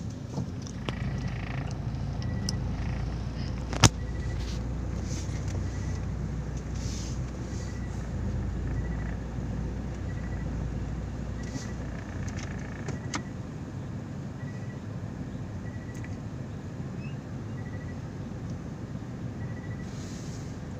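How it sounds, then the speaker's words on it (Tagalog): A long vehicle maneuvering slowly on a narrow road in Camarines Sur, a steady low engine rumble holding throughout with a brief sharp knock near the start and faint passing noises, no talk. "Mahirap pag mahabang sasakyan dito, hindi makapag-maniobra agad."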